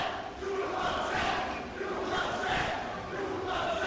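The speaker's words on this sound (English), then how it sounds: "Rosemount swimmers are cheering on Sawyer Smith here" Crowd of high school boys' swimmers cheering loudly and continuously at a Rosemount vs Apple Valley swim meet, a dense roar of shouting voices filling the pool area throughout.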